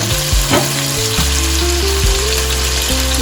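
Water poured onto browned meat in a hot pan erupts into a loud, steady sizzle and bubbling hiss, close and continuous, with faint stirring scrapes and no voices, while cabbage soup broth is being started.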